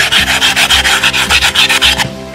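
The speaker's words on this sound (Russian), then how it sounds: "Края тоже надо шлифануть, потому что мы здесь болгаркой только обработали." The edges of a red brick are sanded by hand in quick, regular back-and-forth strokes, about a dozen close, loud rasping rubs before the motion stops.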